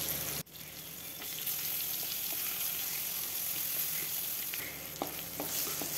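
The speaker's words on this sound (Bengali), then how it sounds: "তারপর শুটকি মাছগুলো ভেজে নেব।" Dried fish sizzles and crackles in hot mustard oil in a kadai, a steady hissing fry with occasional sharper pops and stirring clicks, moderately quiet and alone.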